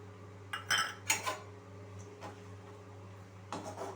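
Soya manchurian with chopped spring onion stirred in a pan, a few distinct scraping and clinking strikes of a spoon against metal over a steady low hum, with quieter gaps between.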